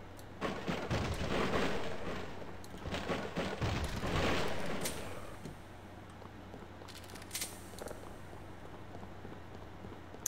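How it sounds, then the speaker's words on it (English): Grenade launcher fire in the game Sven Co-op comes as a few heavy booming blasts early on, followed by quieter rumbling and scattered sharper pops. "Grenade launcher."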